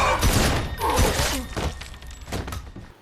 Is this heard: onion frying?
no